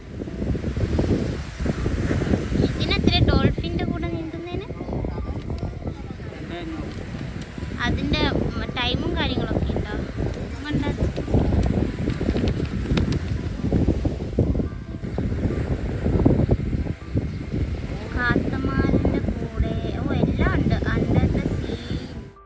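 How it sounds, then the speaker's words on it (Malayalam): Wind and surf on a beach in Mauritius roar steadily under nearly continuous close-up talk, with the rush of waves and gusting wind noise filling the background throughout. "അപ്പം ഇതാണ് ബീച്ച്"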